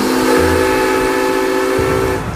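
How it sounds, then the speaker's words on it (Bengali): In an audio drama, a train pulls out of Durgapur station during heavy rain, giving a loud, steady rumble with a sustained whistle-like tone across two seconds. "ট্রেন দুর্গাপুরে থেমেছে, বেশিক্ষণ নয়, মিনিট পাঁচেক থামার পরই ছেড়ে দিল ট্রেন"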